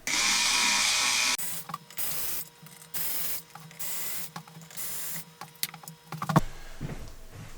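A screw is backed out of a Galaxy DX99V CB radio: a brief hiss, then short, intermittent ratcheting and clicking bursts of metal against metal, close and fairly quiet, with pauses between them.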